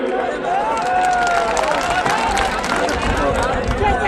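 A large crowd at a political rally on Bhopal's BHEL ground claps and cheers in a continuous, loud, dense roar, with crowd chatter underneath.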